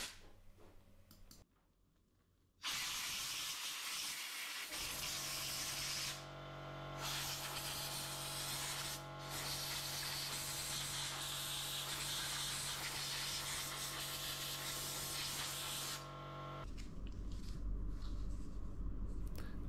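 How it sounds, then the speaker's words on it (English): Compressed air from a canister or compressor blasting through motorcycle helmet vents, a loud continuous hiss lasting most of the clip with brief dips and pauses, alone without speech. "You can use compressed air from a canister or then from a compressor."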